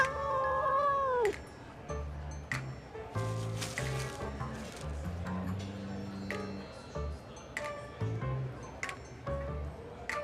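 A small cat wearing a collar meows in a video game, with a clear drawn-out meow at the start, then brief cries over steady background music.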